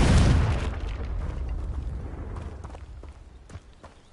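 A Confringo spell explosion in a Harry Potter video game hits with a loud, close boom at the start, then a rumbling, crackling tail that slowly fades.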